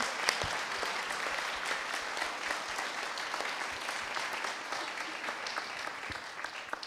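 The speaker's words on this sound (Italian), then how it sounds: "salutare l'assessore attuale Loretta Zarito, gli facciamo un applauso." Audience applause at a political list presentation, continuous even clapping from a moderate crowd in a hall, sustained and moderately distant without speech over it.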